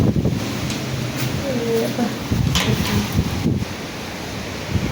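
A storm wind blowing hard outdoors outside a home, roaring steadily with gusts that buffet the microphone and rustle nearby surroundings. A person talks throughout over the continuous noise.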